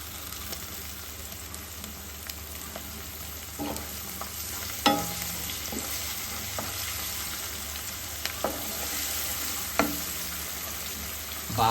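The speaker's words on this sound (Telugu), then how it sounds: "అడగంటకుండా అయితే జాగ్రత్తగా తిప్పుకోండి." Ginger paste tempering for duck curry sizzles steadily in a pan while a utensil stirs it, with occasional sharp scrapes and taps against the metal, close and without talk.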